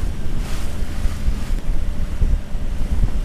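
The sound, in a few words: wind at sea on a sailing boat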